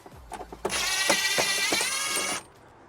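A ratchet unscrews the mud flap screws on a car, a close, fast, steady buzzing clatter lasting about two seconds after a few faint clicks, then stopping abruptly.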